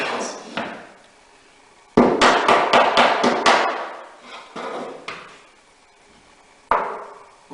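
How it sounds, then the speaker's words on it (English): Sharp hammer taps on wooden dovetail tails driven into the pins of a box joint, close and fairly loud, some single knocks and a quick burst of about six rapid strikes, with short pauses between. "complete the process by uniformly moving from corner to corner, tapping the tails into the pins"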